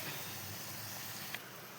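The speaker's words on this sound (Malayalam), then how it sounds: "തീ കുറച്ച് വെച്ചിട്ടാണ് വറുത്തെടുക്കുന്നത്" Soft, steady hiss of oil gently deep frying diamond cut snacks on a low flame throughout, with a brief faint click near the end.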